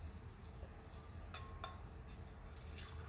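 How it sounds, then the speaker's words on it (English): A martini poured from a cocktail shaker through a strainer, giving a steady liquid rush with a few bright metallic clinks over a constant low background hum, close by and with no talking. "We're gonna put our little strainer on here. Give it a good pour."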